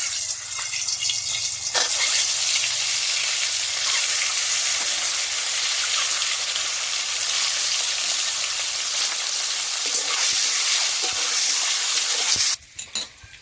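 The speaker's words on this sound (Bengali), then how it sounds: "আমি তেজপাতা দিয়ে জিরে দিয়ে ভেজে নিচ্ছি।" Bay leaves and cumin seeds frying in hot oil, a steady loud sizzle with light crackles and occasional stirring clicks, running continuously before a few sharp knocks at the end.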